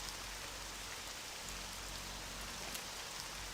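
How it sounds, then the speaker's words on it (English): Steady rain in Brutal Doom hisses as a dense, even wash with no breaks, soft and constant throughout. "Oh, look at this, we got rain."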